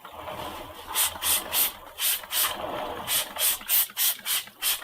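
A spray bottle fires about a dozen quick hissing squirts onto sculpting clay in a fast, fairly even rhythm, close and loud.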